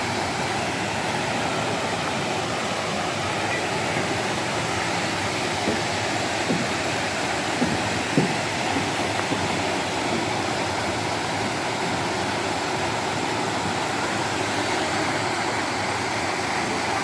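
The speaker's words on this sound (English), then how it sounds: "Absolutely beautiful waterfalls here." A wilderness waterfall rushes in a broad, steady roar that stays even throughout, with a couple of faint knocks partway through and no talking.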